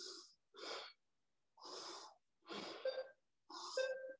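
Heavy nasal breathing during a strenuous Pilates exercise, five separate breaths in and out, close and fairly loud, with short pauses between them and no speech.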